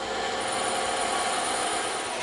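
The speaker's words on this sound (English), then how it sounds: "now we're going to take that over to the bandsaw and the scroll saw and cut it out" A bandsaw or scroll saw cutting EVA foam, a steady, dense, whirring machine noise that holds at an even level throughout with no pauses or talk.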